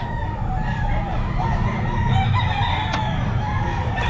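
A sweater gamecock rooster crows at a busy Bocaue pet market, a loud, close cock-a-doodle-doo with clucking amid constant crowd and market murmur.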